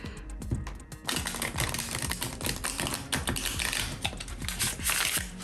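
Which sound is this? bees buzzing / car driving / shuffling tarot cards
shuffling tarot cards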